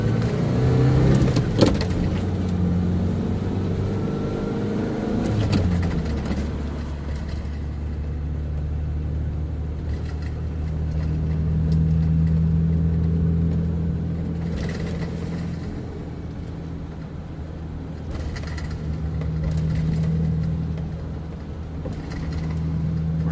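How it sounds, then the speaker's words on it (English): 1997 Toyota LiteAce van driving along, a steady low engine rumble heard from inside, with a few pitch changes as it accelerates and settles, no talk over it. "We're riding in the Toyota liteace 1997 liteace, and I'm taking it to the car wash."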